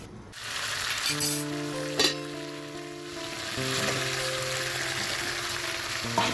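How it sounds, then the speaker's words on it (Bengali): Pork frying in a pan, a close crackling sizzle with a couple of sharp utensil knocks, steady throughout while a low tonal hum runs underneath. "এখন ভালো করে ঢেকে ঢেকে কষাবো আমি, আর অনেকক্ষণ ধরেই কষাবো কিন্তু মাংসটা।"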